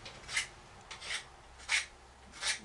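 Close, rhythmic rasping strokes of sanding on a fenceboard wooden tool handle, four distinct passes spaced about half a second apart, with quiet pauses between.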